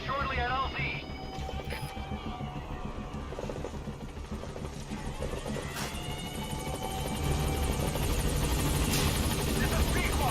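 A helicopter approaches a landing zone in Metal Gear Solid 5: The Phantom Pain, its rotor thumping steadily and growing louder and closer, beneath radio chatter and game sound effects.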